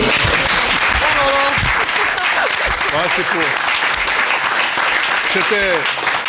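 A French television studio audience applauds in a long, loud, dense burst that carries on throughout while people speak over it.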